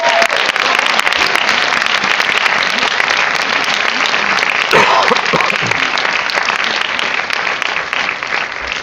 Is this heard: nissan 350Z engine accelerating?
no